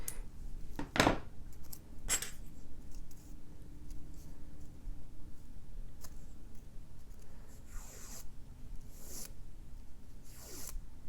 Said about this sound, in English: So I just kind of snip the excess.